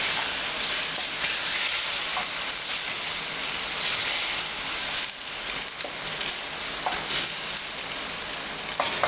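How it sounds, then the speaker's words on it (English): Beef bourguignon with marinade, tomatoes and onions simmers in a pot and gets stirred, a steady close bubbling sizzle with a few soft scraping knocks from the spoon, no talking. "Let it simmer. And give this one more stir."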